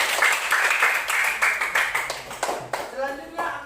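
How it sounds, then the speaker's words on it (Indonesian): Schoolchildren in a classroom clap for a classmate, a short run of quick, uneven claps close by, with voices talking over them throughout. "Tepuk tangan untuk Malika."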